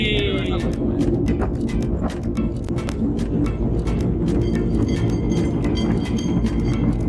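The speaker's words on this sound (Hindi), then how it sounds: "हमारी ट्रेन चालू, ट्रेन जर्नी।" An old heritage train at a pioneer village in Stratford, New Zealand rumbles steadily along the track with a dense run of clicking and clattering wheel beats, loud and close throughout, with a brief squeal near the start.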